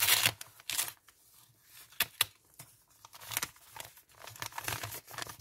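A paper parcel sealed with double-sided tape being torn open up close, loud crinkling rips and crackles in irregular bursts with short quiet gaps between them, and no voices.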